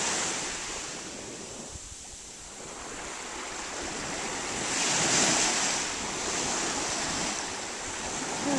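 Surf at Wineglass Bay beach rolls in as a steady broadband wash with wind noise on the microphone, swelling into a louder crashing surge midway before easing back, with no voices.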